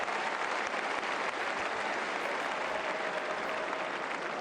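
Sustained applause from a tennis crowd at the Roland Garros final, Djokovic versus Wawrinka, a dense, steady wash of clapping filling the stadium at even loudness throughout, with no talk over it.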